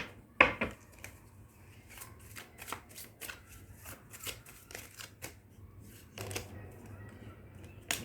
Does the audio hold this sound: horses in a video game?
no